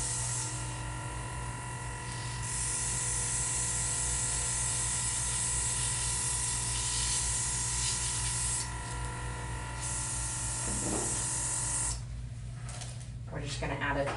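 An airbrush sprays with a steady, continuous hiss, close by, thinning briefly near the end before resuming.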